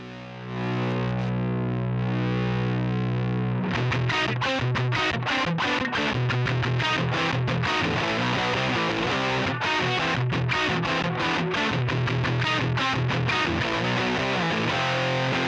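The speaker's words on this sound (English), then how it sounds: "I personally love this Rat distortion for how crazy it does get." An electric guitar played through a Rat distortion pedal on a budget pedalboard holds one sustained chord, then breaks into loud, choppy, heavily saturated strums that go on without a break.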